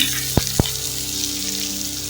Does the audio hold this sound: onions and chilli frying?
yes